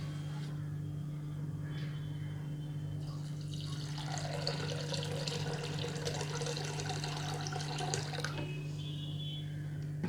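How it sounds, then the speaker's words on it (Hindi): Water pours into a pressure cooker holding soaked lentils, a splashing, rising stream that swells midway and then stops, over a steady low electrical hum. "हम इसमें और पानी ऐड करेंगे।"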